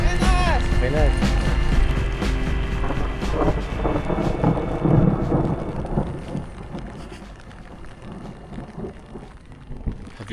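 Heavy rain pours and thunder rumbles loud and close in Cotopaxi National Park, Ecuador, during a cycling trip, with a sharp crack early on that fades into steady rain.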